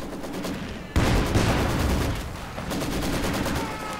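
Machine-gun fire from a Maxim gun in a World War II strategy game, loud dense bursts of rapid shots with a sharp onset near one second and continued battle noise throughout.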